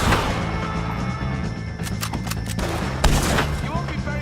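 Gunfire in the video game Red Dead Redemption 2 during a fight with O'Driscoll gang members: a few sharp shots crack over a loud, continuous game soundtrack and ambience, with game-character voices shouting throughout.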